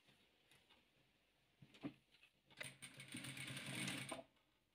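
A sewing machine stitches rows of quilt patchwork, starting with a few faint, brief clicks and then running in a quick, rattling burst of about a second and a half before it stops.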